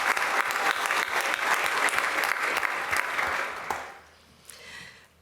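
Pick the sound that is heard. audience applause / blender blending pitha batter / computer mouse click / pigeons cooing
audience applause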